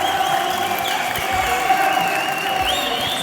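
A studio audience at a talk-show taping applauds on cue from a held-up sign, producing a dense, steady wash of clapping and cheering with high whistle-like tones running through it, holding at even loudness for the whole stretch.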